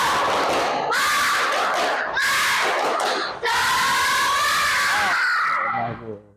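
A classroom group of students loudly chants together in several energetic bursts with short pauses between, voices filling the room before fading out at the end.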